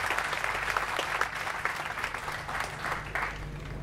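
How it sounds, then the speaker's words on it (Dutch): An audience at an outdoor festival concert on a square applauds after a guitar performance, a dense crackle of clapping hands that is steady and fairly distant. "Uw terechte applaus."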